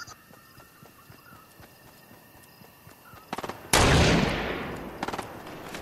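Fortnite gunfire heard at a distance: soft scattered shots and short rapid bursts, then one loud nearby blast that decays slowly, followed by more faint bursts.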